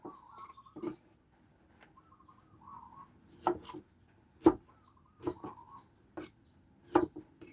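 Several sharp knife cuts slice lemons on a board at an irregular pace, each a crisp tap separated by short pauses, close and fairly quiet.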